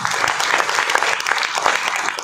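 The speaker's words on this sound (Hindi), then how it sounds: "इनको धन्यवाद ज्ञापित करें और जोरदार ताली बजा के स्वागत करें" A party convention audience in Mumbai breaks into loud, sustained applause welcoming newly elected office bearers, a dense crowd of clapping hands filling the hall steadily without pause.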